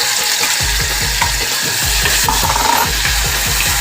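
Whole cloves, cinnamon, black peppercorns and bay leaf frying in hot oil for homestyle chicken curry give a close, bright sizzle with quick rhythmic stirring scrapes throughout, with no talk.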